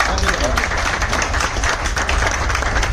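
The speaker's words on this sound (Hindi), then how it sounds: "एक बार और तालियां सर के लिए" Audience applause after a speaker's talk at a Pollux Coin business orientation meeting in a hotel hall, a dense steady wash of many hands clapping that stays loud and even throughout.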